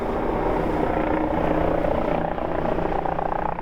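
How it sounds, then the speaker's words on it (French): A helicopter hovers in gusts above 80 km/h while trying to land at Skerryvore lighthouse, its rotor and engine roaring loud and close in a dense continuous drone with no talk. "Aux commandes de l'appareil, dans des rafales de plus de 80 km/h, Rob va tout tenter pour se poser."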